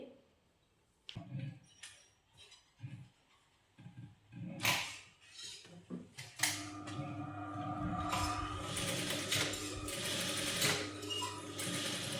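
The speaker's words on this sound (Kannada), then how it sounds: "ನನ್ನ ಹತ್ರ ಮಿಷಿನ್ ಇರೋದ್ರಿಂದ ನಾನು ಮಿಷಿನಲ್ಲೇ ಒಂದು ಸ್ಟಿಚ್ ಹಾಕೊತೀನಿ" A home sewing machine stitches a simple homemade pillow, starting with a few short separate mechanical bursts and then running into a steady, loud whirring hum with a rapid clatter that continues without any talk.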